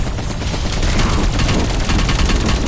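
Sustained rapid automatic gunfire from a chopper gun in Call of Duty Cold War Zombies, loud and dense, a continuous fusillade with no talk over it.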